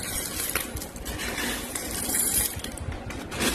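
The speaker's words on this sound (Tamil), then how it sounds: "பூந்தி கொட்டை நல்லா உடச்சிட்டு கொட்டையெல்லாம் எடுத்தாச்சு. பாருங்கள் எவ்வளோ சவுண்டு, கலகலன்னு கேட்குதா" Dried soapnut seeds rattle and clatter inside their broken shells, a dense, busy stream of small hard clicks and chinks, close and continuous with no voices.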